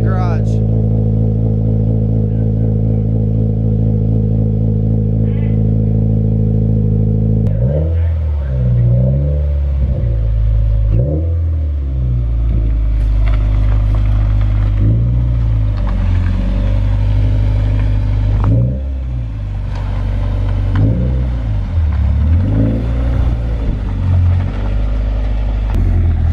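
A Subaru WRX engine idles loudly, then revs repeatedly in rising and falling bursts, close by inside a garage.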